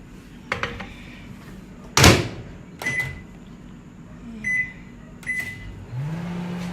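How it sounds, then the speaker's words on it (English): A kitchen microwave oven, about to defrost pieces of stew beef, sounds with sharp clicks and a door clunk, followed by several short high beeps and then a low running hum as it starts. "I'm gonna put it in the microwave."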